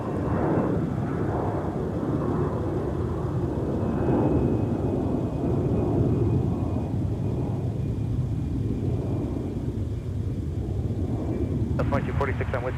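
An airplane takes off from runway 17 at Minneapolis–St. Paul airport: a steady, broad roaring rumble that holds for the whole stretch, with muffled voices underneath.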